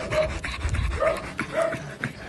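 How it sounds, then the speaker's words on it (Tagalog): Dogs stuffed into sacks pant heavily and rapidly, several quick breathy bursts close up over a low rumble, with a few faint whimpering tones. "Kawawa ang itsura ng mga asong isinilid sa sako. Hingal na hingal at hirap huminga."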